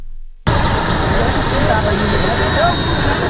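A border police helicopter lands at a maximum-security prison, its loud, steady rotor and turbine roar starting abruptly and holding constant at close range.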